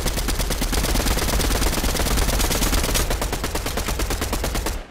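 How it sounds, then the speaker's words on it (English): Rapid automatic gunfire fills a video game shootout, a dense loud stream of shots with barely a pause from start to finish. "They're firing, right? Because I'm shooting at him."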